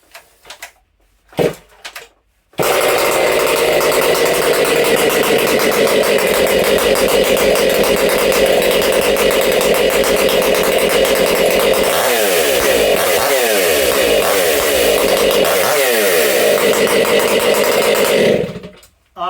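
A Stihl chainsaw fires up after a few faint pulls and runs loud and close for about sixteen seconds, idling with repeated sharp throttle blips and revs before cutting off.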